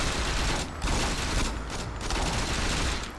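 Sustained, dense gunfire from guns in the video game Saints Row 2, a continuous loud clatter of shots with a few brief gaps, no talking over it.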